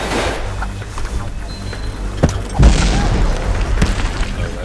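Booming explosions in the video game Gun Monkeys, a couple of heavy thuds over continuous game noise and rumble, loud and close, with no speech.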